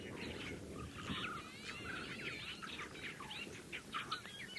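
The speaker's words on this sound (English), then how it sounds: "Incredible funny noises from the starlings." Starlings calling at a sunset safari, a busy run of odd chirps, whistles and warbling notes that fill the clip at moderate level over a steady outdoor background.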